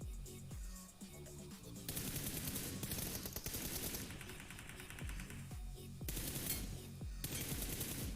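Rapid automatic gunfire in a mobile shooter game on a Poco X3 Pro phone, loud dense bursts with short pauses between volleys, with no talking.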